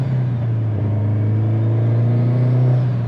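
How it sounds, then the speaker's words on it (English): A 2005 Subaru STI with a turbocharged engine drives along, a loud, steady low engine drone with a faint rising turbo whine above it. "Watch out, Crow. The turbo will suck you in."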